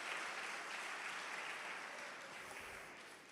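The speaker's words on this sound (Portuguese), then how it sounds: "Se for para aplaudir Jesus, aplaude com força." Church audience applauding with strong, steady clapping that fills the space, loud and continuous, then easing slightly toward the end.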